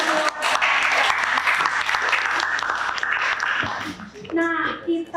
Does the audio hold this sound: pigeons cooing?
no